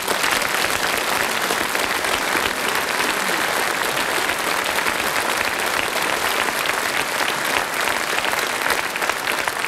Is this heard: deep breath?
no